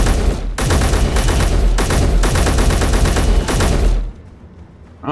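Rapid automatic gunfire from a weapon shooting at spiders in the space-building game Space Engineers, loud and close in several sustained bursts with short gaps, cutting off into quiet near the end.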